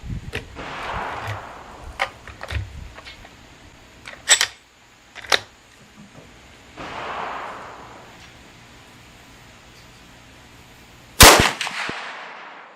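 A 350 Legend rifle fires one shot at a 100-yard target outdoors. The shot is a single loud, sharp crack with a short decay, set apart from quieter clicks and handling noises.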